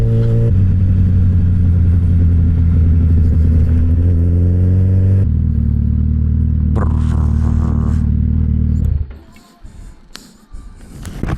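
A Suzuki Hayabusa motorcycle fitted with a new exhaust revs loudly and steadily up close, its engine note climbing then holding a deep drone before cutting off, leaving quieter rustling at the end.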